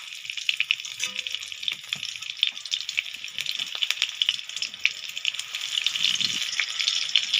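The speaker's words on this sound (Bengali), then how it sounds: "তো বন্ধুরা, তেলটা গরম হয়ে গেছে, আমি এর মধ্যে দিয়ে দেবো 5 ফোড়ন" Five-spice seeds (panch phoron) and whole green chilies fry in hot oil, giving a steady, crackling sizzle with bright popping spatters that stays close and fairly loud throughout.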